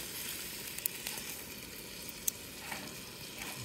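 A whole squid grills over a camp fire, giving off a steady close sizzle with a couple of sharp pops and crackles.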